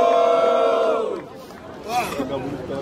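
A rap battle audience at Batalha do Coliseu gives a short burst of shouting and cheering for Gini, fading quickly to a murmur before a smaller swell of voices.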